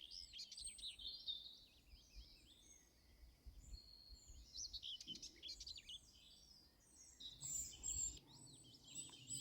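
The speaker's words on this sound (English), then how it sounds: "I'll listen to the birds." Small birds chirp and tweet in scattered bursts outdoors, fairly faint, with light wind-like background and no talking.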